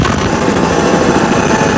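Helicopter filming an offshore powerboat race in rough water off Key West, Florida, 1991: steady loud rotor thrum and turbine whine throughout, close and continuous with no talk.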